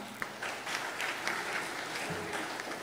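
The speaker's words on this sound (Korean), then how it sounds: "박수 부탁드리겠습니다." Moderate applause from an audience at a Korean academic symposium greets a welcome address, an even patter of clapping that stays steady and fairly soft for a few seconds.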